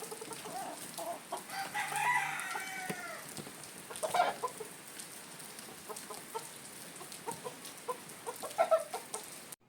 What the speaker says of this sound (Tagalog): Kinuha na nga sa talian ni Jayfern ang mga manok at inilagay na sa folding.